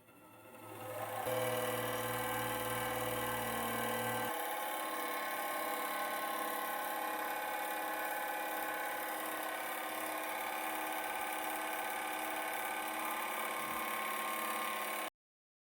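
A tiny tabletop bandsaw prototype runs at high speed, giving a steady, even mechanical whir with a constant tonal hum that starts after a brief ramp-up and holds level until it cuts off, close and without talk.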